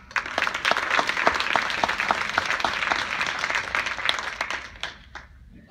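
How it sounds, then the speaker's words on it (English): A crowd applauding steadily, dense clapping that carries on for several seconds before tapering off toward the end. "Let's give her a hand."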